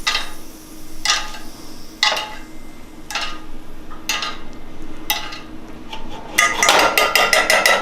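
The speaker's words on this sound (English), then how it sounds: "Gonna give our pan a swirl. We're just gonna spoon that over our steak here." A pan with butter swirled and spooned over a steak, giving a series of sharp metallic clinks and scrapes of a spoon against the pan at roughly one-second intervals, closing in a busier flurry of clatter and sizzle.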